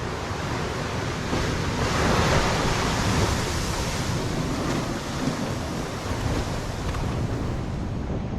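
Ocean waves wash steadily onto a remote island shore in a continuous, loud broadband roar, with some wind on the microphone and no voices.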